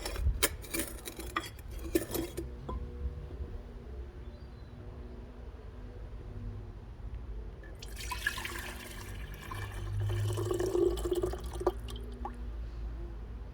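Liquid solution is poured into a container during gold refining from rolled gold watches, with splashing, dripping and clinks of glassware in two bursts separated by a quieter stretch of low background noise.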